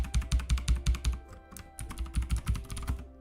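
Rapid clattering keystrokes on a computer keyboard, typed in quick bursts with a brief pause midway, close and fairly loud with no talking.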